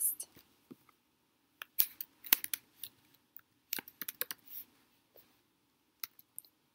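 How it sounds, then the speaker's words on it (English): Sparse key clicks from someone typing an email on a computer keyboard, arriving in short irregular bursts separated by pauses, faint and close with a low steady hum beneath. "I'm gonna type up the email here"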